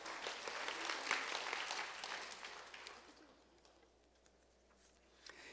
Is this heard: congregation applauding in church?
yes